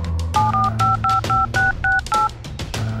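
Telephone keypad tones from a mobile phone being dialed, a quick run of about eight short, evenly spaced dual-tone beeps, close and clear over a faint background hum.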